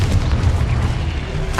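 A Confringo blasting spell in the video game Hogwarts Legacy sets off a loud, close burst that rumbles heavily for over a second and ends in a bright crackle.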